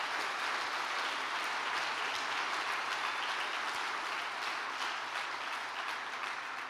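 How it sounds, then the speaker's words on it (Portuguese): A church congregation applauding during a sermon, a dense, even roar of clapping that holds steady and fairly loud from start to finish with no talk over it. "Tem alguém que pode aplaudir o Senhor e agradecê-lo?"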